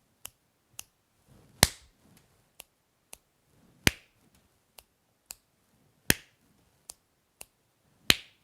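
A crisp, close sequence of finger snaps and hand claps in a repeating pattern, two light snaps followed by a louder, fuller clap, cycling several times in a quiet room with no voices.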